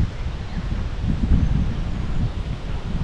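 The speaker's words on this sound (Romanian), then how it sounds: "este un vânt destul de puternic astăzi" Strong wind by the Prut River buffets the microphone with a continuous low rumble and rushing noise, with no other clear sounds.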